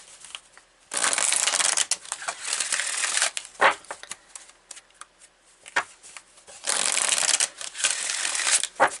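Oracle cards from a Wisdom of the Hidden Realms deck being handled and shuffled close up, with two long papery riffling stretches and scattered soft flicks and taps between them, no voices.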